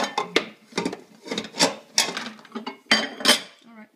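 A two-year-old sets plates and dishes away in a kitchen, with repeated close clinks and clatters of dishware and cutlery in an uneven rhythm, while brief voices speak between them.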